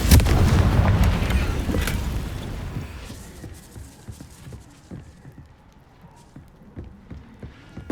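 A Confringo fire spell explodes in the video game Hogwarts Legacy: a loud, close blast that rumbles and fades over about three seconds, followed by quiet, scattered tapping footsteps.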